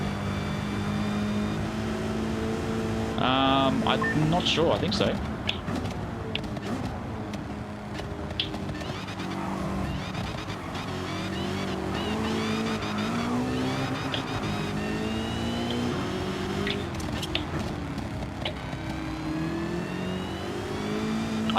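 Dodge Demon in Gran Turismo 7 whining loudly under acceleration, the supercharged engine note rising and falling across shifts with bursts of tire squeal, while people talk briefly over it.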